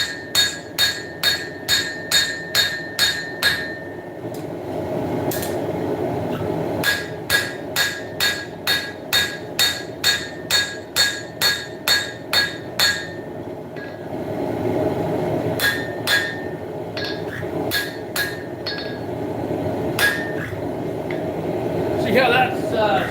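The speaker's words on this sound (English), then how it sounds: "I'm going to knock that tip down, and then I'm going to start laying in the bevels" Steel blade being forged by hand hammer on an anvil, the tip knocked down and bevels laid in, with bursts of rapid, evenly spaced ringing blows separated by short pauses, loud and close over a steady shop background.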